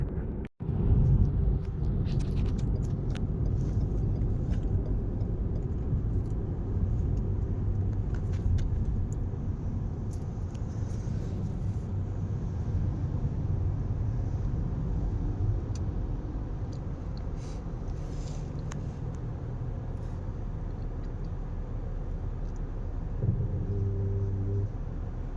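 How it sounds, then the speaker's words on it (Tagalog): Car interior on the road, a steady low engine and tire rumble filling the cabin throughout, continuous and fairly loud with small ticks, no talk. "Traffic na din."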